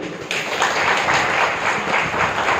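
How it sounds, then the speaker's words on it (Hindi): Audience applause at a Brahma Kumaris class in Gotegaon swells in after a brief lull, many hands clapping in a dense, fairly loud and steady patter with faint rhythmic surges. "ताली तो बजाओ।"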